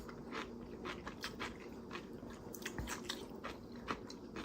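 Someone eats smoked meat with a pickle close to the microphone, making quiet, rapid wet chewing and biting sounds with a few soft crunches, with no talking.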